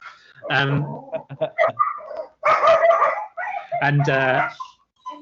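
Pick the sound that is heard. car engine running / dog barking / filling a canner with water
dog barking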